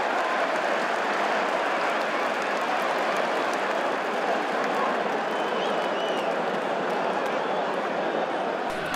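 Football stadium crowd at a Sheffield Wednesday versus Middlesbrough match, a dense, steady roar of cheering and clapping that holds loud and unbroken throughout, then cuts off abruptly at the end.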